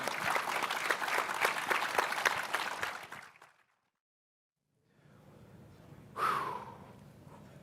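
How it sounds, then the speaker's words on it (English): Audience applause closing a crypto conference panel in Miami, dense clapping for about three seconds that cuts out to silence, followed by faint room noise and a brief breathy whoosh near the microphone. "Let's get a huge round of applause for Andrew Polstra, Jonas Nick, and Nadav Co"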